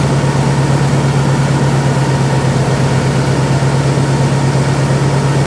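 Log splitter engine idling in extreme cold as it warms up, a loud, steady, low mechanical hum with no break or change.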